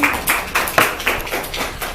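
A brief round of clapping in a quick, fairly even rhythm, loud and close.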